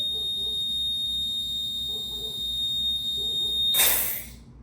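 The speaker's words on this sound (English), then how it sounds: "that's my low air alarm" A firefighter's breathing apparatus low-air alarm gives a steady, piercing high electronic tone throughout, with soft breathing underneath and a brief burst of hissing air near the end.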